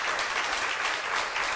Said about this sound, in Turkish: Bu alkışlar Yıldız'a olsun.